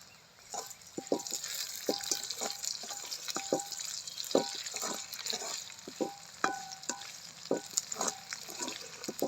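Cumin and mustard seeds crackle and sizzle in hot oil, a steady spitting hiss with quick irregular pops throughout, close and fairly quiet.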